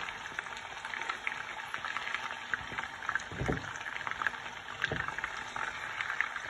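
Koi fish frying in a pan with spinach nearby: a soft, steady sizzle and bubbling of oil with a few faint taps and clinks.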